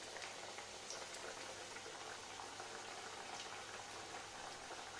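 Alu vadi frying in oil over a low-to-medium gas flame, a steady dense sizzle and bubbling hiss that holds faint and even throughout with no voices.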